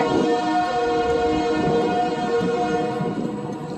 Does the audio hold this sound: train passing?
yes